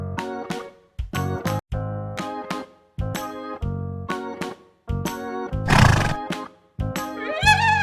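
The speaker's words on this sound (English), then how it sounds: "H-O-R-S-E, horse." A horse whinnies repeatedly in a series of loud, close neighs with short pauses between calls, the last one rising into a high, shaky squeal.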